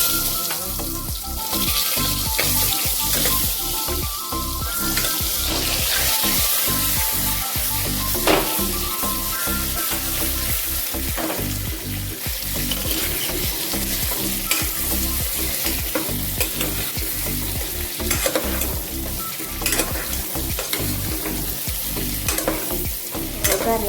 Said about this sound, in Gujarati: આપણે કુકરમાં ગરમ તેલ મૂકી દીધું, તેલ ગરમ થઈ ગયું એ આપણે જીરું નાખી દઈશું